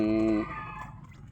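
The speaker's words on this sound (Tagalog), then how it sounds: "Yan na po ang available natin na sisiw" Chicks peep and cluck close by, a bright sustained peeping call at the start followed by softer, scattered chirps and clucks, with a little background noise underneath.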